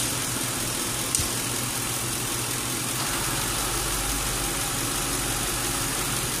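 Lincoln Town Car engine running steadily while the A/C system is recharged, a constant close idle hum with a brief click and a shift in the low drone partway through as the compressor cycles.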